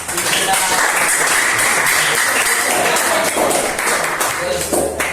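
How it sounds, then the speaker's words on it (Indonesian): Audience applause for a student after a poetry reading in a classroom session, dense broadband clapping filling the whole stretch, steady and fairly loud, with voices mixed in. "kita kasih aplaus dulu buat Ananda Septian Pais"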